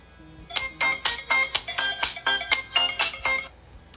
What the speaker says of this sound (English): And I got the text message here on my other phone.